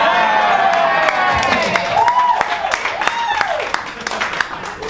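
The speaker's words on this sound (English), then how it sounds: "I don't know why I got a cheer" A comedy club audience at the Perth Fringe cheers and whoops with scattered clapping, a lively crowd close by. Voices call out over the applause, and it tapers off toward the end.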